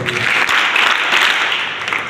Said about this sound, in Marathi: टाळ्या वाजवून जोरात अभिनंदन करूया